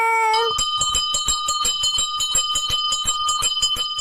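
A cartoon ice cream seller's bell rings in a fast, steady series of bright metallic dings, repeated about a dozen times at close range with no talk over it.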